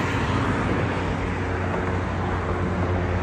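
Steady road traffic noise from vehicles passing outdoors, a continuous broadband rumble and hiss at moderate distance with no distinct pauses.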